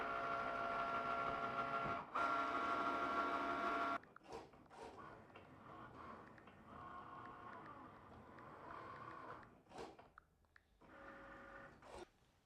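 A Cricut cutting machine cuts a cake topper, giving a quiet whirring motor drone with steady tones, then softer intermittent buzzing and shuffling movements as the carriage shifts back and forth.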